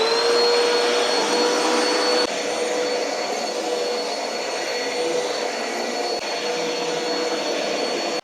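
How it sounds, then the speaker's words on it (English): Vacuum cleaner running over a home floor during holiday cleaning, a loud, steady, close motor whine that continues unbroken with a slight change in pitch partway through, with no talk. "Now we get to vacuum."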